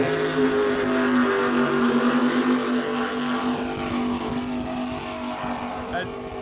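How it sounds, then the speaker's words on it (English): Loud roaring Supercat racing powerboat engines drone steadily nearby on Lake Macquarie, a continuous heavy mechanical growl that slowly fades slightly as the boats pass. "seeing some of those big engines hitting the course and causing a big rooster tail"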